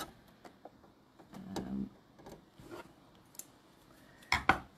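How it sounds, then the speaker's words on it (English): Scissors snip through ribbon thread during couching embroidery, giving a couple of quick, close, crisp cutting clicks near the end amid quiet rustling. "I'll cut that off too, otherwise it'll get in my way."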